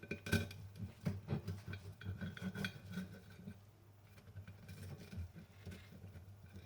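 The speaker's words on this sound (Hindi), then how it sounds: "अब मैं इनको ट्रायंगल शेप में काट लूँगी।" A knife cutting chicken sandwiches into triangles, soft repeated knocks and scrapes on a board or plate, close but faint, with a low background hum throughout.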